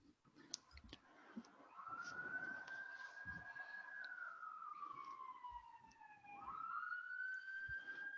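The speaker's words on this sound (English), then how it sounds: "Oh, it's actually an ambulance." A wailing ambulance siren passes outside, its long rising and falling tone sweeping steadily across the clip at moderate distance, with faint clicks and room noise in the foreground.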